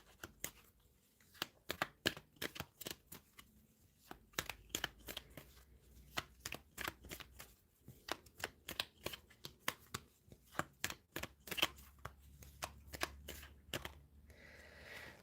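Tarot cards being shuffled in steady bursts of crisp, close riffling and slapping clicks, repeating rhythmically across the whole stretch with brief pauses, quiet and alone.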